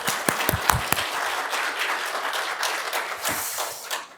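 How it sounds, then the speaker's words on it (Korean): Congregation applauding together during a year-end church service, a dense, moderately loud wash of clapping with a few sharper individual claps near the start, continuing steadily throughout. "우리 하나님께 영광의 박수를 한번 올려드리죠"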